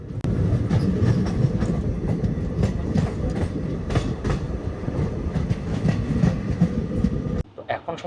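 A passenger train runs on rails near Gorakhpur, heard from on board as a loud, close, steady rumble with rhythmic clickety-clack of the wheels, then briefly drops away near the end.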